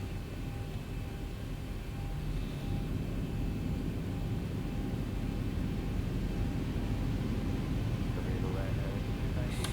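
A Boeing 737-800 (Zibo B738) in X-Plane 12 powers up for takeoff, its engines giving a steady, loud broadband roar and low rumble that holds without a break.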